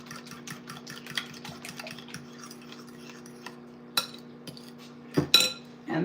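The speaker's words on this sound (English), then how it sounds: "you're just gonna whisk away" A whisk beats a French toast egg mixture in a bowl, making quick metallic clicks against the sides over a steady low hum, then a few louder clinks near the end.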